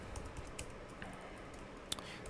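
Code is typed on a computer keyboard as a quiet run of scattered, close keystrokes with one sharper click near the end.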